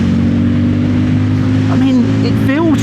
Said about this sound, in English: Keep revving it out because it's so quiet though.